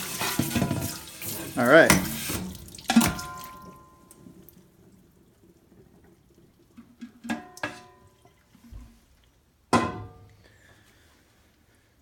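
Water streams from the spout of a Berkey gravity water filter in short bursts and a few separate splashes, fairly close, with a brief spoken remark near the start and quiet gaps between flows.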